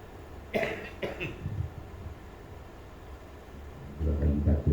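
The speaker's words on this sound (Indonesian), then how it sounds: "Dua kali batuk" Two short, sharp coughs close by, a quiet pause, and then a voice begins speaking.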